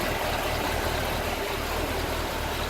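A vehicle engine idles steadily at close range with a dense, even rumble and no pauses, its exhaust manifolds showing heat discoloration and the air-conditioning compressor not engaging.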